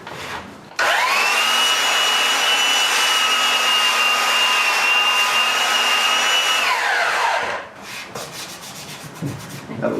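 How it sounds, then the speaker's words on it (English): A belt sander runs over a glued wood basement door, a loud steady whirring hiss for about six seconds that winds down, followed by faint handling noises. "let's hit this with a belt sander real quick"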